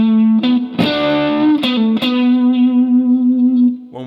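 A distorted electric guitar with chorus and reverb plays a solo phrase from a song. A few quick picked notes and bends lead into one long sustained note with gentle vibrato, loud and close, with no voice over it.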